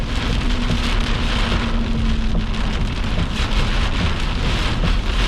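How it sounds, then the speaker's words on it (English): Heavy rain hammers down during a tornado-warned storm in Arkansas, a loud, continuous roar of drops pelting surfaces, steady and close throughout. "I don't see anything because of the rain."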